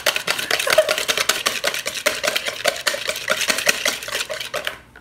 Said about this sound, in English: Now Whisk. Whisk, whisk, whisk.